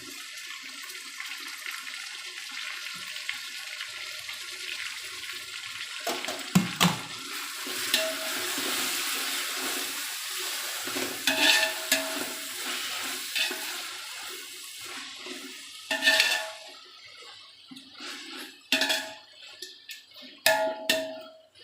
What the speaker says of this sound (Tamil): இது நல்லா கிளறிட்டே இருக்கணும், நல்லா வதங்கணும்.